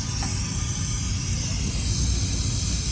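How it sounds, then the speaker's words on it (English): Steady hiss of air leaking from a drag car's trans brake system at a drag strip, continuous and fairly faint against a low rumbling background, with no talk. "I hear a leak too."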